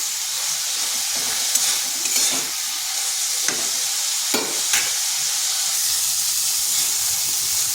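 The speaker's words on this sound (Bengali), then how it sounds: "ছাতুটা একটু ভাজা ভাজা করে নেব।" Wild mushrooms shedding water as they fry in a pan, giving a bright steady hiss and sizzle up close, broken by several short scraping stirs of a utensil.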